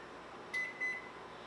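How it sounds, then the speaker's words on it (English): A kitchen oven timer being set beeps twice in quick succession, two short electronic tones heard close and fairly faint over a soft room hum, with no talking. "I'm going to set my timer."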